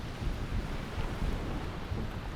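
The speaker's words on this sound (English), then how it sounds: "it's very windy right now" Strong wind buffets the microphone at the beach, a steady low roar with gusty thumps and rumble running throughout, no voices.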